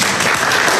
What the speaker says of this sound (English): I just want to give a round of applause to you.